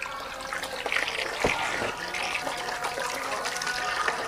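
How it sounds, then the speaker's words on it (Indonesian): Water pours into a betta fish tank being set up with salt added, a continuous close splashing and gushing fill with a faint voice underneath. "Kita isi airnya sampai penuh teman-teman ya."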